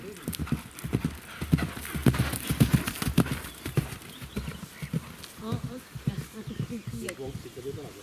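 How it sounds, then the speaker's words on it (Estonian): Horse galloping at an eventing cross-country competition, with rhythmic hoofbeats and loud snorting breaths, close and repeated, under a commentator's talk. "hobune hakkab niimoodi ühteselt jooksma"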